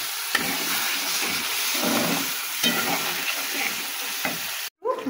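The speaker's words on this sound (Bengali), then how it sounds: "মশলার সঙ্গে মাছগুলো কষিয়ে নিলাম।" Boal fish sautéing with spices in a pan, a steady broadband sizzle with occasional stirring scrapes and clinks, continuous and close, ending with a brief cut.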